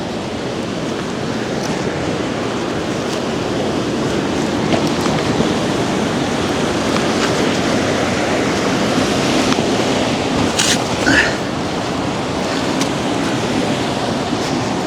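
A running stream rushes beneath boulders in a canyon, a steady, loud, unbroken roar of water with no voices.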